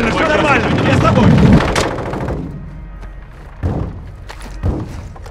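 Enemy gunfire in Call of Duty Warzone 2.0 DMZ, dense thumping shots in the first two seconds under Russian voice chatter, then a few isolated heavier thuds.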